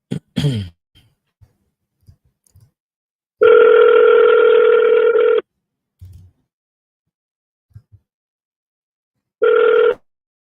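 Ringback tone while calling a seller by phone: a long, steady electronic ring of about two seconds, then quiet with small handling noises, then a second ring that cuts off short. Both rings are loud and close.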